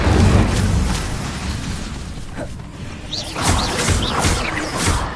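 Incendio fire spell cast in the video game Hogwarts Legacy, a loud whooshing burst of flame followed by a roaring rush and crackling bursts, with no talk.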